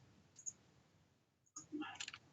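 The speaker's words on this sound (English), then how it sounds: "you hear him clicking the mouse button" Quiet computer mouse button clicks, a couple of soft sharp clicks separated by a pause over faint background noise, close and low in level.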